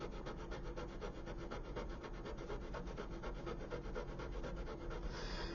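Close, rhythmic rasping strokes of a sanding stick rubbing back and forth over the superstructure of a 1/200 scale model ship, steady and continuous.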